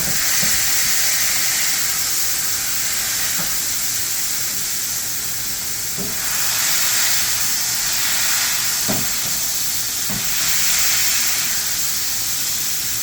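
Venison burger patty smashed flat on a hot cast iron skillet, giving a loud, constant sizzling hiss that swells and eases across the stretch, with a few soft thuds of the press and no speech.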